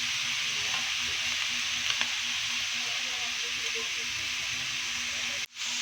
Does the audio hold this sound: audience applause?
no